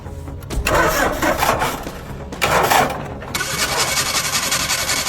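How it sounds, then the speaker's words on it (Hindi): A tractor engine cranks and sputters in loud bursts, stops briefly, then catches and settles into a steady, rough mechanical running sound nearby. "इतनी आवाजें क्यों कर रहा है इंजन?"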